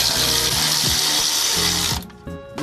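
A power tool spins down the bolts on a vehicle's differential cover, a loud close whirring drone that runs steadily, then cuts off with a short sputter and a brief second burst at the end.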